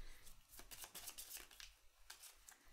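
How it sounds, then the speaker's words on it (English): Someone shuffles a deck of cards for the This War of Mine board game, making faint, close riffling and flicking bursts in quick succession over a few seconds. "We need to shuffle all the cards."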